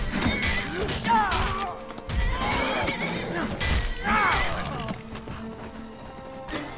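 A horse neighs and whinnies repeatedly amid clattering hooves and impact thuds in Skyrim, with voices talking over the busy, close game action.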